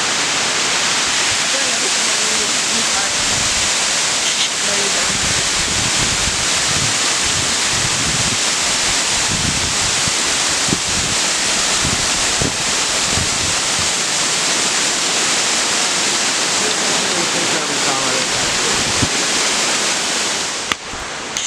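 Rushing water at Amicalola Falls roars steadily and loudly throughout, a dense continuous wash mixed with wind buffeting the microphone and occasional voices underneath.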